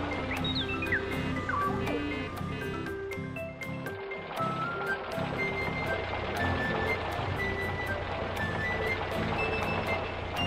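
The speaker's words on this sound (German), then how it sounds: "Der Zementmischer fährt zum Spielplatz, um die Grube für den Basketballkorb aufzufüllen." A cartoon cement mixer truck drives and reverses, a steady series of high beeps over an engine rumble, with quick bright sound effects and light music underneath, all close and clear.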